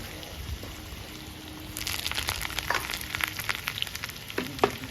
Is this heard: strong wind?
no